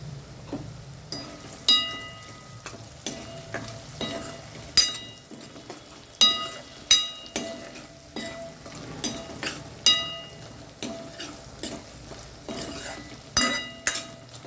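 Taro roots fried in a small amount of oil with a spoon stirring and scraping the pan, sharp metallic clinks recurring in an irregular rhythm over a soft steady sizzle.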